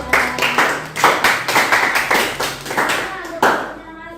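Applause for a student in a classroom of trainee teachers: a group claps in uneven bursts, close and fairly loud, with several swells fading near the end and voices murmuring underneath.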